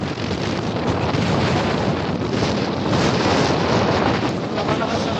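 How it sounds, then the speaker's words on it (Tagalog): Strong wind roars across the summit of Mt. Alang Salacsac in Nueva Vizcaya, a loud continuous gusting rush buffeting the microphone throughout, with no voices. "Napakalakas ang hangin."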